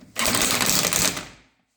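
Old Snap-on impact gun briefly driving wheel bolts tight on a Volkswagen Mk2 Caddy during a brake pad change, one loud continuous rattling burst of about a second and a half that fades out, with no talk.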